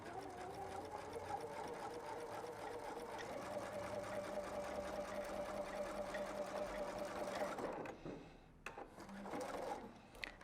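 A sewing machine back stitches along a knit neckline binding, running steadily for about eight seconds before stopping, followed by a few soft handling rustles.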